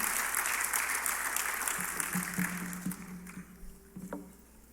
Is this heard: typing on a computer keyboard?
no